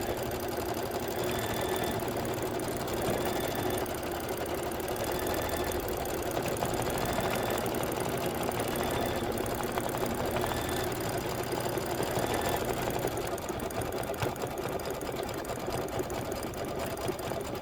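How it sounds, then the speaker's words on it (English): An embroidery machine stitches a dimensional badge embellishment in a steady, fast mechanical whir with rapid needle clatter, continuous and close throughout, with no talking. "This is going to be 3 minutes of stitching."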